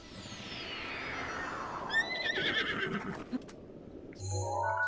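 Horse neighing in the video game Zelda Breath of the Wild: a long whinny that slides downward, followed by quick snorts and soft hoof clops, with chiming game sound effects near the end.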